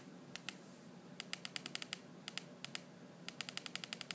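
Rapid keystrokes on the compact keyboard of a Measy RC11 air mouse remote, coming in quick bursts of crisp plastic clicks with short pauses between them, close and fairly quiet with no talking.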